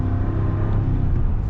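A 2022 Chevy Silverado 1500 Rally Edition pickup with a 2.7-liter turbocharged four-cylinder and 8-speed automatic pulls under acceleration, a steady, close, loud low rumble and whir heard from inside the cab with no voices.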